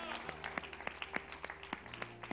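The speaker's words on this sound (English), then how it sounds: "Let's give the Lord a hand clap of praise this morning." A church congregation claps in praise during a Sunday morning service, with a fast run of overlapping hand claps over a murmur of voices and a faint sustained organ tone underneath.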